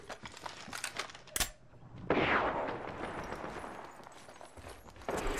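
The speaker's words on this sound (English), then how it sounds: "I'm getting shot at." Gunfire in the video game Apex Legends: a few scattered sharp shots and a louder crack, followed by a longer rushing burst, moderately quiet overall with a final burst at the end.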